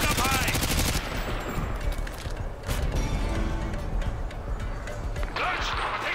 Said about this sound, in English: I'm taking a heavy fire from the position here